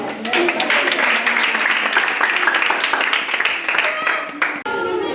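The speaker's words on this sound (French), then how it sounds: "Allez, on acclame." Audience claps and cheers for a man at a birthday celebration, steady loud applause with shouts and voices mixed in, cut off sharply just before the end.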